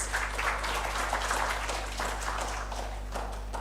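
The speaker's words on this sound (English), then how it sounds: "So please give big round of applause for all of us." Applause from a seminar audience for the participants, a busy patter of clapping over a steady low electrical hum, sustained across the whole stretch without speech.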